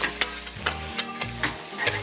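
Lobster stir-fried in sauce in a wok: rhythmic scraping stirs recur about every half second over a continuous close sizzle, with no voices.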